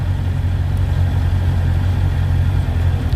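A Honda CBR 650R motorcycle with E-Clutch runs its engine in a low, steady drone, held at an even level throughout with no clear gear-change break, close and loud with no voices.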